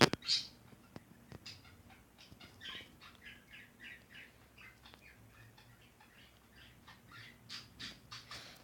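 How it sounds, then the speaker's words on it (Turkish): Faint, scattered bird squawks and short chirps sound in a quiet space, some a bit louder and closer, with a few soft knocks in between. "Bu arada kuş sesi gelirse kusura bakmayın."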